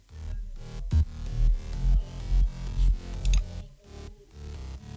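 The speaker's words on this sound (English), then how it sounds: "without any effects. The bass sounds like this." A dry, unprocessed EDM drop bass line, built in FL Studio, pulses in heavy low-end notes with a steady rhythmic pattern, loud and alone without any talking.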